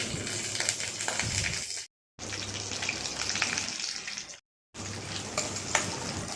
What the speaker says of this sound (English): Add cashew and almond into the ghee.